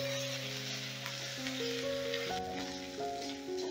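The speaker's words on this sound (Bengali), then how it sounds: "এবারে এই মশলাটাও আমি ভালো করে কষে নেব যতক্ষণ আদা রসুনের কাঁচা গন্ধটা না যাচ্ছে" Ground ginger and garlic paste with spices frying in a pan, giving a steady, soft, continuous sizzle with faint stirring beneath a constant tonal hum.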